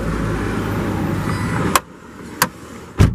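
Peugeot 206 car door noise: a steady engine rumble cuts off, followed by three sharp clicks or clunks at irregular intervals, close and fairly loud.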